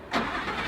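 A Lamborghini engine catches and fires up with a sudden loud burst, then settles into a strong, steady running roar close by, with no talk over it.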